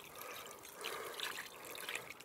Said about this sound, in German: Aber davor, upsa, gieße ich meine Tomaten